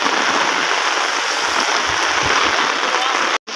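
Heavy rain pours in a dense, steady roar during a storm with high winds and floodwater, broken by a brief drop-out near the end.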